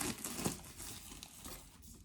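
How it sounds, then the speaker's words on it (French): Packaging of a new book being torn open produces faint, continuous crinkling and ripping with a few brief louder tears, close by and with no talking. "Je déchire ça comme si j'avais 8 ans et demi."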